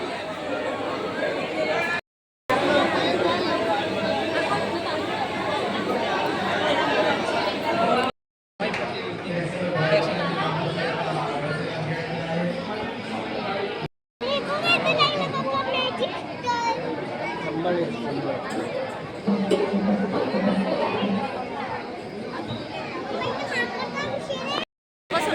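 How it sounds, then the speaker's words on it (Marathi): A dense crowd of pilgrims at the Renuka Mata temple in Mahurgad fills the air with steady overlapping chatter and children's voices, a continuous busy murmur broken by a few brief gaps. "आज गर्दी आहे."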